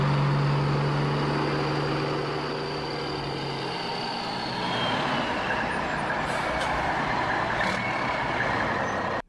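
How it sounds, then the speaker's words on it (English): A military tactical semi truck with an air brake system rumbles steadily and close by, its engine drone holding through the whole stretch with a brief higher hiss or tone partway through. "It sounds pretty much like a semi truck."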